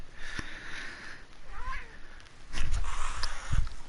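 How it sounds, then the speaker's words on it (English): A house cat gives a clear, drawn-out meow partway through, with soft thumps and rustling in the room around it and a burst of low bumping noise afterward. "The cat went nuts."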